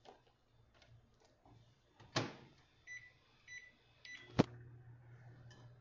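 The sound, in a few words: microwave melting chocolate in 20-second intervals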